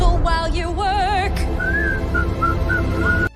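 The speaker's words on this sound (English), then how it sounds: "So, whistle while you work." Clear melodic whistling, a person whistling a wavering tune in several rising and falling phrases, loud and close with a steady background bed throughout.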